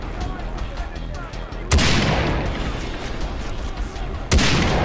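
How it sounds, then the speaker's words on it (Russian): Gunfire in Far Cry 3: two sharp, loud shots about two and a half seconds apart, each followed by a ringing decaying tail, over quieter background game sounds. "Кто стреляет?"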